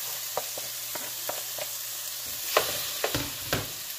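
Tomato and onion frying together in a pan for a vegetable soup base, with a low steady sizzle broken by a few sharp utensil scrapes and stirs, the later ones louder and closer.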